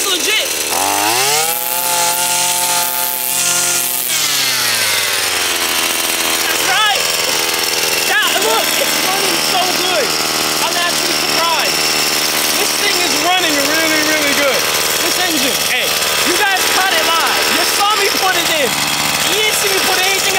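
A weed eater engine running on fuel made from plastic starts with a loud rising rev, then settles into a buzzing idle and drone. People talk over the engine throughout.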